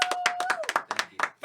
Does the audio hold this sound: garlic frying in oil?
no